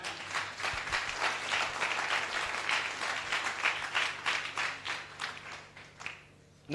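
A church congregation applauds after a scripture reading, a steady wash of many hands clapping for several seconds before tapering off toward the end.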